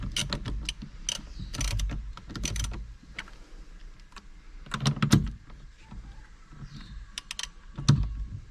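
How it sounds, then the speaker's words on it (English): A ratchet with a 24 mm socket loosens the bolt holding a car's steering wheel, producing close, quick bursts of sharp clicking in uneven runs with brief pauses. "it's loosening with this"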